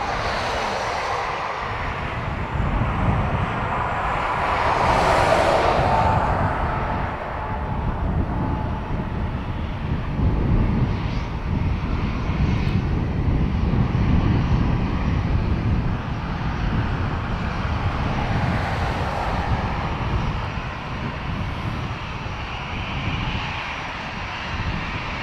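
Aer Lingus jet airliner at Dublin Airport, a rumbling broadband engine roar with wind on the microphone, rising and falling in loudness across the passage and heard alone.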